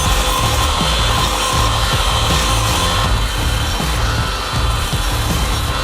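A belt grinder runs a knife blade against a Combat Abrasives structured belt of about 400 grit while shaping a paring knife, giving a steady, loud abrasive rasp with rhythmic low pulses as the blade is drawn across, with no talk.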